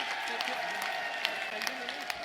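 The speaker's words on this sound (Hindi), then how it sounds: "खड़े होके सब जने ताली बजाइए।" Audience applause at a Brahmin assembly, a dense steady wash of clapping from a large crowd with a few sharper claps standing out, loud and continuous throughout.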